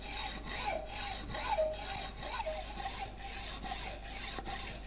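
A hacksaw with a coarse pitch blade cuts through soft material in steady, evenly spaced back-and-forth rasping strokes, about two per second, close and moderately loud with no talk.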